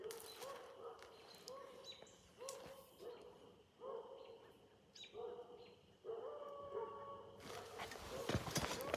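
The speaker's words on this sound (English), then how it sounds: "dogs are going nuts" Several dogs bark in repeated bursts outdoors, moderately near, with some birdsong and a few faint voices mixed underneath and a louder noisy stretch near the end.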